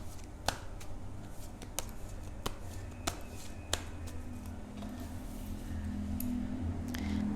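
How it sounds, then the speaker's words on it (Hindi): Tarot cards are shuffled by hand in a quiet indoor setting, giving soft papery riffles and sharp snapping taps at irregular intervals, close and faint, with no talking. "कैंसर के लिए कार्ड शफल करते हैं।"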